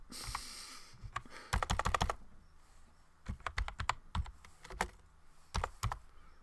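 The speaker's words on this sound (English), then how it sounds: "Just type Zork" Keystrokes typed on a computer keyboard while entering a command into a text adventure terminal, in clustered bursts of quick, crisp clicks separated by short pauses.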